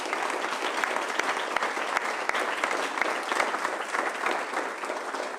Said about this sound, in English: I really think that these guys deserve a round of applause for just hearing us out